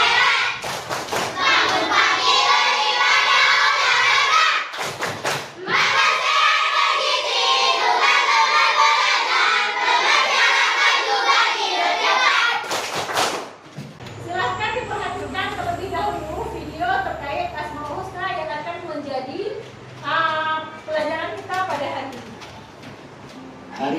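Schoolchildren in an Islamic religious education class perform the 'tepuk anak hebat' clapping chant, with loud patterned claps mixed with the children's chanting voices, then a pause and lively classroom chatter.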